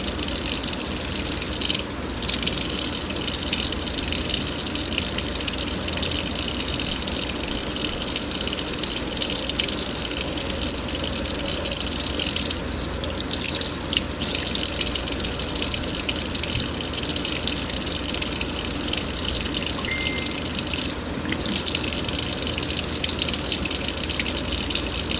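Water runs hard and steadily from a kitchen tap while homemade butter is rinsed, a loud, continuous close gush that lasts throughout.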